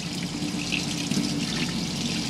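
Hot water runs steadily from the kitchen tap of a 2017 Rollerteam T Line 590 motorhome, making a continuous close hiss and splash with no talking.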